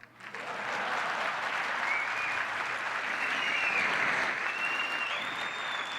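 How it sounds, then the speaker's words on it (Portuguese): Sustained audience applause at an entrepreneurship panel event, a dense steady clapping from a large crowd that swells quickly and carries on loud throughout, with faint whistles or cheers near the end. "Cadê as palmas?"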